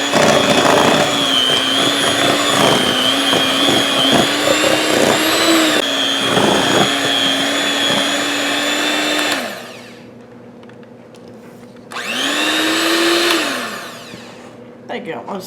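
An electric hand mixer whirring loudly through room-temperature whipped topping and cream cheese, running steadily for about nine seconds, pausing, then a short second burst as it spins down.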